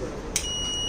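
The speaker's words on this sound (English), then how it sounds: "So this fire sensor will detect the fire and also give a fire alarm through the buzzer." An Arduino-driven buzzer triggered by a fire sensor sounds as a thin, steady high-pitched electronic tone that starts after a brief click and holds for the rest of the short, under-one-second clip.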